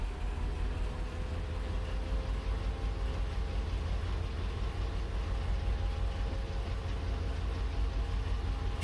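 BNSF ES44DC diesel locomotives in the Run 8 Train Simulator game spooling up as distributed power units are notched up, a low continuous engine rumble with a faint steady whine, alone and fairly soft.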